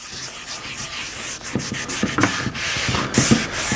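Seasoning oil is rubbed by hand into a cast iron pan, a close, soft scratchy rubbing with irregular strokes.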